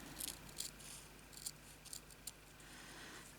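Scissors snip across paper to shape a moth wing during a craft project, giving a handful of short, crisp cuts at an irregular rhythm, close and fairly quiet over a faint room hum.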